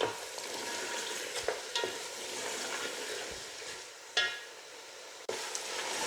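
Onion masala for beef nihari fries in oil with a continuous close sizzle, interrupted by a few scraping stirs of a spoon against the pan, with no talking.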